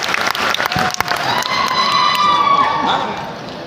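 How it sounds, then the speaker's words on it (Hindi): Applause from a seminar audience, loud clapping with scattered shouts at first, then settling into a steadier crowd noise that fades toward the end. "जोरदार ताली अजय जी के लिए प्लीज"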